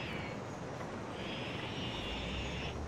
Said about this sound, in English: the airplane is just gonna take off right away